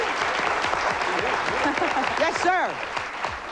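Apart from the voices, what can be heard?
audience applause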